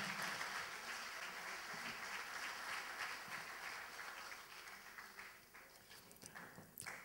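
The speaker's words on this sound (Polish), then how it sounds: "Wielkie brawa, dziękujemy ślicznie" Concert audience at a gala in Lubsko applauds, a broad sustained wash of clapping that gradually thins and loosens toward the end, with a few sharper individual claps standing out.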